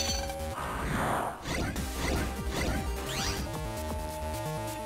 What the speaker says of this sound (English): More importantly, there's ice we can shatter.